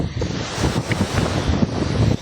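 Strong wind roars against the microphone while sea waves churn and splash, a loud, continuous rush with no voices.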